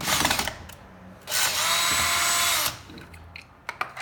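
A Jericho-type hand grinder making a coarse grind, heard as a loud, steady whirring burst of about a second and a half in the middle, with fainter clicks and rattles before and after.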